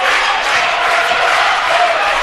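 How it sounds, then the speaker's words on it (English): A home basketball crowd at a college game roars loudly and continuously, a dense, sustained wall of cheering and shouting from many voices close around. "As the Lancer crowd will get loud again."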